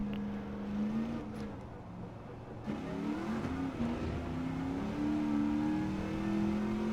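Race car in Gran Turismo 7 pushing hard on track, its engine note climbing steadily with one sharp dip for a gear change, then rising again as a loud, constant drone.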